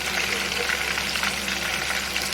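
Golden needle mushroom pork pieces fry in old oil over low heat, giving a dense, steady crackling sizzle that fills the whole stretch with no pauses.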